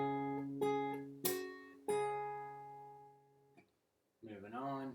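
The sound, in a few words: fingerstyle guitar phrase with slapping and plucking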